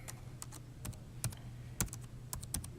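Light, irregular clicking of a file name being typed on a computer keyboard, with soft keystrokes spread across the stretch and some firmer taps, all quiet over a low steady hum.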